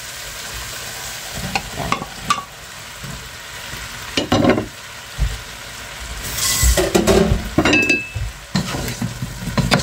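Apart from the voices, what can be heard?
tomatoes stirred into frying pan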